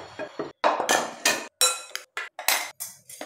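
A spoon clinks and knocks repeatedly against a bowl while mango pickle is mixed with oil, a series of sharp, close, irregular taps separated by brief silences, with no voices.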